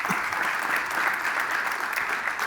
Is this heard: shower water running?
no